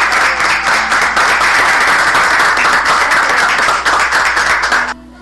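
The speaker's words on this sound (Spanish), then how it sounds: "el aplauso para ella" Dense, steady applause from an audience fills nearly the whole stretch, loud and close, then cuts off abruptly at the end.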